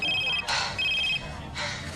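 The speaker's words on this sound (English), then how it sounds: "why aren't you picking up your phone?" A telephone rings in short electronic bursts, two warbling tones separated by brief gaps, cut by sharper noisy thumps, fairly close and moderately loud with no speech over it.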